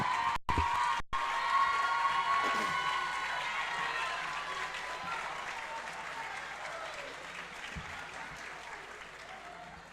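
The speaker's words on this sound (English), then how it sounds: "please join me for a round of applause" Audience at a student-athlete awards ceremony applauding to honor mothers, sustained crowd clapping that swells quickly and then slowly fades over several seconds, with light cheering and faint voices mixed in.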